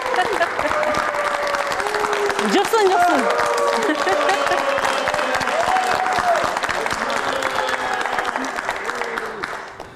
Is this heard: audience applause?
yes